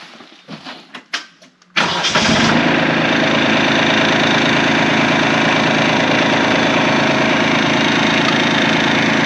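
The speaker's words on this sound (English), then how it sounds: "I've got to start up the tractor here. I need the hydraulics to do that, so let's get this going." A Kubota tractor with a BH77 backhoe attached gives a few clicks and cranking sputters, then its diesel engine catches and settles into a loud, steady idle that runs on to the end, with no talk.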